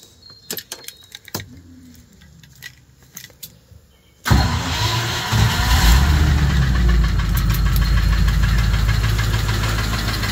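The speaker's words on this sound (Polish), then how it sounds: "Samochód jak stukał, tak stuka." A Land Rover Discovery V8 engine cranks and starts after some small clicks, then runs loudly with a steady rough knocking rumble close by.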